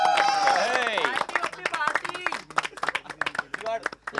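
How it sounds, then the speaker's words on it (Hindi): Office colleagues at a work offsite clap together, a burst of many overlapping hand claps rising after an opening stretch of lively talk and cheering, with voices continuing over the applause. "ताली बजाओ यार"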